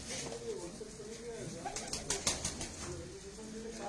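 Cooing from blank check breed pigeons, soft repeated low calls in a busy loft, with faint wing flutters and someone talking over them.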